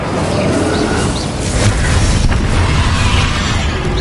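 An Incendio fire spell blasting in Hogwarts Legacy, a loud, sustained whooshing roar of flame with booming low-end bursts that swell midway and continue steadily to the end.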